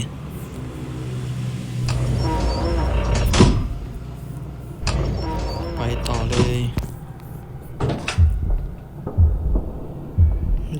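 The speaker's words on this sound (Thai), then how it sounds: "มันไม่ได้ยินเสียงที่เราเปิดประตู" Door movements in the Evil Nun horror game come as a few loud creaking, clunking opening and closing sounds with low rumbles between, under speech.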